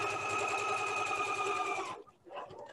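A sewing machine stitches through layers of fabric for a tulip block pillow, a steady close whirring run of about two seconds that then stops, followed by faint handling sounds.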